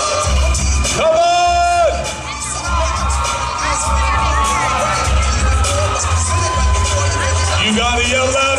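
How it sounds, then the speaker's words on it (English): A large crowd at a Power Team show in Newark yells and cheers continuously. A loud announcer's voice and whoops carry over the roar. "Come on, Ohio, you got to yell louder."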